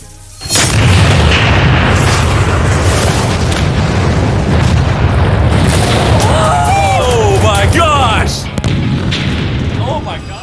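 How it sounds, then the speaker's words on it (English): A massive explosion blows up a full-size real-life Minecraft village set, a loud sustained roaring boom that rumbles on for several seconds, with scattered higher crackles and debris sounds near the end. "This is gonna be a massive explosion."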